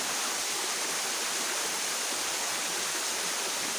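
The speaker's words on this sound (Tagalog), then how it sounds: "So mo na gitawag nga Kabagawan Falls." Kabagawan Falls pours in a steady, dense hiss of rushing water, close and continuous with no other sounds.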